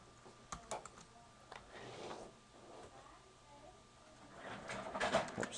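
Computer keyboard keys pressed for a shortcut, a few quick close clicks followed by a faint pause and then a burst of light tapping near the end.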